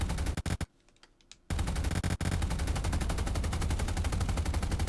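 Machine guns of a Grumman F4F Wildcat fire in Microsoft Flight Simulator, a loud rapid continuous rattle in two bursts separated by a brief pause, close and dominant with no talking.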